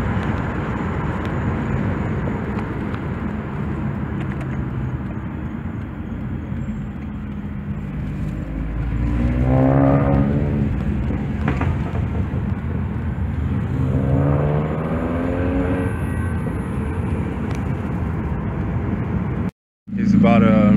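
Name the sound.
Mini Cooper S with muffler delete revving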